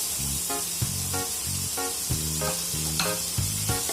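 Onions fry in a pan for paneer butter masala, giving a loud, continuous hiss and sizzle with a few faint knocks. Steady background music with a repeating pattern plays underneath.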